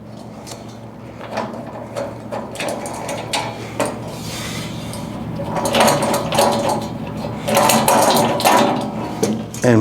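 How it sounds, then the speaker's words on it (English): A print hold-down bar is worked loose and lifted off a laminator, giving a series of close mechanical knocks, rubs and rattling scrapes that grow louder toward the end, with no talking. "We are going to take our print hold down bar off"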